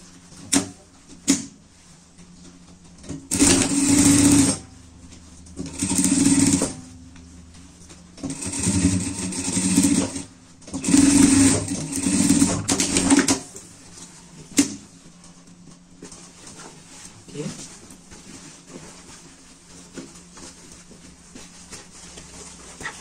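Sewing machine stitching a seam on a fabric pet bed, several bursts of rapid whirring stitching of a few seconds each, separated by quiet pauses and handling clicks.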